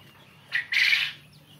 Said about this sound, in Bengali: আমার কাছে অরিজিনাল জাপানি কোয়েল পাখি আছে